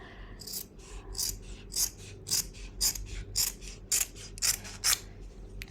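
Scissors snip through cloth during a stitching cross-cutting lesson, about a dozen crisp rhythmic cuts close to the ear over a low steady background hum, with no talking.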